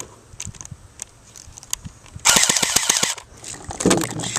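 A cheaper H&K MP7 replica fires on full auto, a sharp rapid burst of about a second of snapping shots outdoors, followed by a second shorter burst after a brief pause, preceded by a few light clicks.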